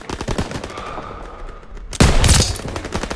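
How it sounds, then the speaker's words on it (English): Machine gun fire in the World War II shooter Call of Duty WWII, a dense continuous burst of rapid gunfire that swells louder midway through amid battlefield noise. "MGs, open fire."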